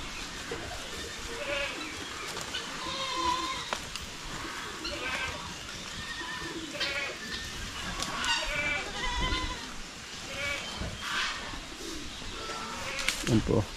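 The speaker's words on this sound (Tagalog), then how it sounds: "Hindi matakot yung kambing na umakyat sa kuan." A goat bleats repeatedly while climbing up a piece of wood, its faint, scattered calls mixed with birdsong and background voices, with some talk.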